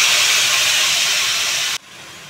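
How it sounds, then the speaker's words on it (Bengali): Water from a bowl pours steadily into a rice pot for rice kanika bhog, a loud continuous hissing rush that cuts off abruptly near the end, leaving quiet room tone. "এই 2 বাটি জল দিলাম"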